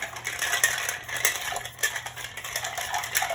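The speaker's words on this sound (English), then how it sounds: "So I'm going to do that, and I'm going to stir it up." A spoon stirring a Negroni cocktail, giving a steady run of light clinking and rattling taps at close range, repeated quickly and evenly with no talking.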